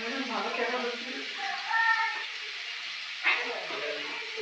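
Potatoes, a fish head and carrot frying in a pan with turmeric, a soft steady sizzle heard under someone speaking, with a brief clink partway through.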